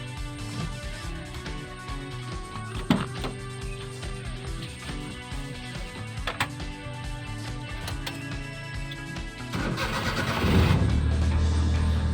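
A 2007 Maruti Omni van engine cranks and catches near the end, settling into a steady low idle after a stretch of quieter mechanical noise and a couple of sharp clicks.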